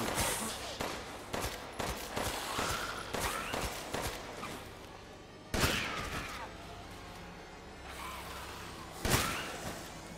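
Bursts of rapid gunfire in Resident Evil Village, several loud volleys with sharp single cracks between them, close up, with a voice talking now and then.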